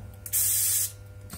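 A single short, loud burst of air hisses into a motorcycle tire's inner tube while the tube is being seated inside the tire. The burst lasts about half a second, with softer hissing at either side.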